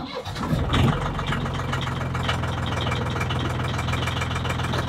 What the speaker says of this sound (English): Let's go turn on the engine again.